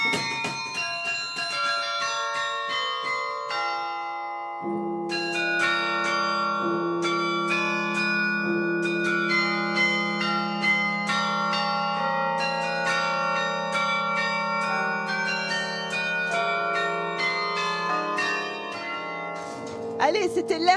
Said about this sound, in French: c'était l'air de clochette de Mozart, vous avez tous reconnu